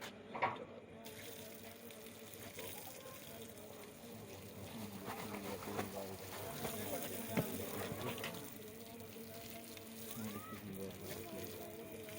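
Water runs steadily, as from an open tap or hose, during preparations for an urs celebration in Multan. Muffled voices talk over it throughout.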